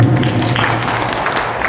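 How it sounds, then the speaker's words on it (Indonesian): Applause for a woman at a mosque officials' installation ceremony in Gresik, a steady dense wash of clapping from a crowd, fairly loud and continuous with no talk. "Tepuk tangan untuk ibu."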